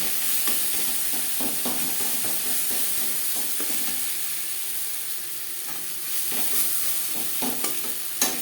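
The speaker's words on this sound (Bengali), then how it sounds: "এভাবে পেঁয়াজের সাথে টমেটো ম্যাশ করে দেব পেঁয়াজ অবশ্যই ভালো করে ভেজে হবে" Onion and tomato being mashed and fried together in a pan for a Bengali rohu fish curry: a steady close sizzle with repeated scraping stirs of a spatula throughout, and no one talking.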